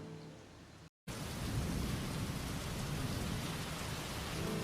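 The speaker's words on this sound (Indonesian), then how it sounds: "Suatu sore, hujan turun lagi." Steady, loud rain pours down with rumbling thunder running underneath, broken only by a brief silent gap near the start; no voices are heard.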